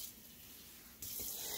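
Water poured from a small cup into a crock pot holding chicken wings, a brief soft trickle and splash that starts after a second of quiet room hiss, faint and close.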